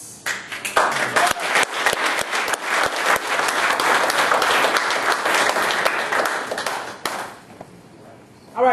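Loud, sustained applause from a sizable audience, with dense clapping and a few sharp individual claps, fading out toward the end.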